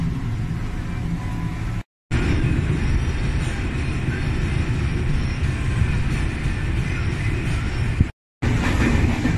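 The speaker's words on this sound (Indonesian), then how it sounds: "Aku ada di stasiun kereta." A train at a railway station gives a steady, loud low rumble of rolling wagons that fills the scene, briefly cut off twice, with no clear talk over it.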